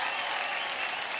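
Dense, steady applause from a studio audience on a televised singing competition fills a brief moment, loud and continuous.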